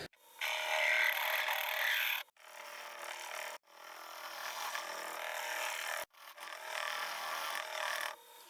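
A yew natural-edge hollow form turning on a lathe as a tool shapes the wood, giving a steady, fairly quiet scraping hiss in three long passes split by brief pauses.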